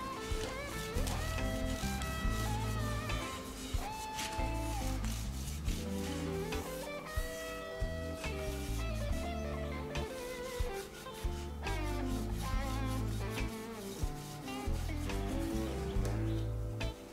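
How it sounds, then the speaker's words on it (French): Steady rhythmic rubbing as a cleaning wipe scrubs the fretboard of a Telecaster guitar neck, close and continuous, with music playing loudly underneath. "On va nettoyer la touche avec la lingette."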